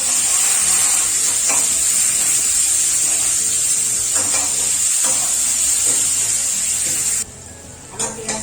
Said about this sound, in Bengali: আমার পেঁয়াজটা দেখো একটু ভাজা ভাজা হয়ে গেছে